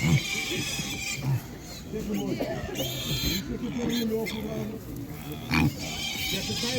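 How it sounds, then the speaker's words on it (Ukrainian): Duroc pigs grunt and squeal in a busy pen at an animal market, a steady jumble of snorts and short oinks, with people talking nearby underneath. "Дюрок, такі свинки."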